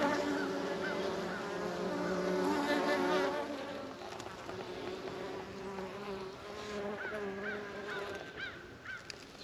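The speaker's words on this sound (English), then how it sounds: "We're going to check the beehives behind me." Honeybees buzz around beehives at an apiary, a steady droning hum close by with individual bees whining past, while a voice speaks over it.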